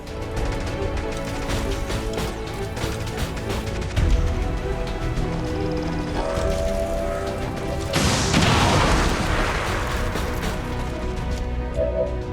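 A rocket launched and exploding in XCOM 2 during an Avenger Defense mission: a burst of broad noise around the midpoint, then a louder, sustained blast rolling over continuous game music and ambience.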